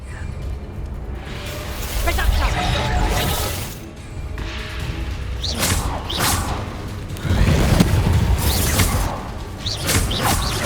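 Hogwarts Legacy combat rings out with spell blasts, booming bursts and swishes of Confringo and other spells, several loud hits scattered across the passage. Voices speak in between.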